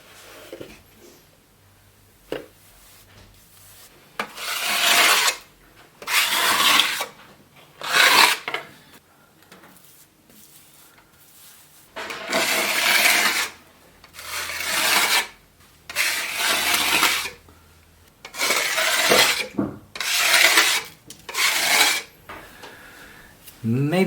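A brush scrapes thin, runny plaster onto a wall in repeated rough rasping strokes, each lasting a second or two with short pauses between, close and fairly loud.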